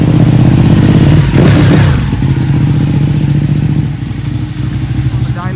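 A Ducati 1299 Panigale motorcycle accelerates at full throttle on the highway, its engine roaring loud and close with a steady harmonic drone that shifts through gear changes, with wind rush layered over the engine.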